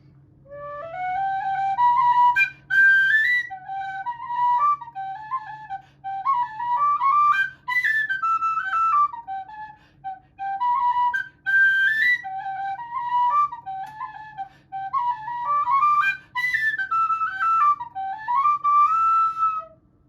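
A tin whistle plays the Legacy Jig, quick bouncing notes in phrases with brief breaths between them, close and bright over a faint low hum.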